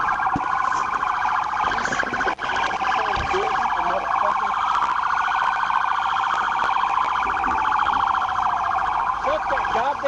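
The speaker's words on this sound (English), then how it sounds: "Shut that goddamn siren" A police car siren wails loudly and continuously at a roadside stop after a Suzuki Hayabusa chase, its cycling tone sustained throughout with faint background noise underneath.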